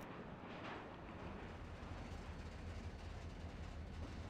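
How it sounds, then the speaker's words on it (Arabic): Mine train wheels on the railway at Bouarfa, Morocco, give off a continuous low rumble and grinding roar. The sound is steady and close, with no voices. "إذا كان المنجم القديم قد باد وانتهى، فإن أزيز عجلات هذا القطار لا يزال يذكر"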